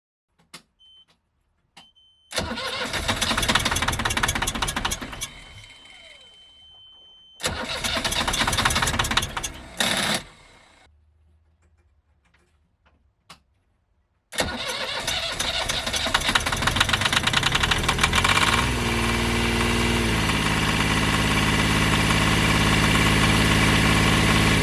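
A diesel engine cranks in two short bursts, stalls, then catches on a third try and settles into a steady, loud idle.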